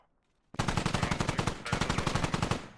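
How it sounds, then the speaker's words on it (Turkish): Close, loud automatic rifle fire in the military shooter Squad, a steady rapid rattle of rounds starting abruptly after near silence and continuing in an unbroken burst. "Bak şuradan atış var hala"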